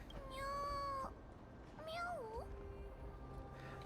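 Two distinct cat meows inside the Honkai: Star Rail game, the first long and steady and the second rising and bending, both clear and close over a soft background hum with no speech.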